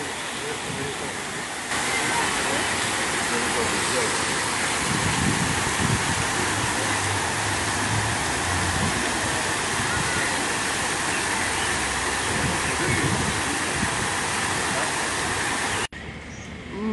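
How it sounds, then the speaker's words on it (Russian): Outdoor fountain built as a waterfall topped with dolphin statues on a seaside promenade in Adler, Sochi, giving a dense continuous rush of falling water that fills the scene, with faint voices beneath it. "Фонтан водопад, а сверху дельфинчики."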